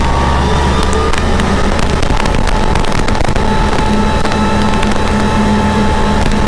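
The heavy diesel engine of a Kubota MK5000 tractor climbing a slope roars under strain at high revs, loud and close, with clattering and rattling mechanical noise throughout.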